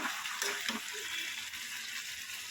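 Chicken simmering in a pan as it releases its water, Odia-style chicken kasa in the making: a steady soft sizzle and bubbling hiss with faint stirring clinks, close and continuous.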